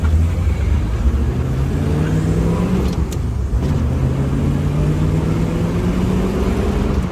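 1965 Ford Mustang convertible driving on the road, its engine droning loud and steady throughout with pitch changes suggesting gear shifts and a brief dip mid-way, no talking.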